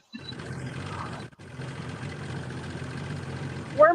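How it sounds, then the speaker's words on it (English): An old Allis-Chalmers tractor engine, or a similar old motor heard near water, runs at a fairly quiet, steady idle-like drone with a brief dropout near the middle and a sharp sound at the end. "Sounds like somebody driving an Alice Chalmer tractor."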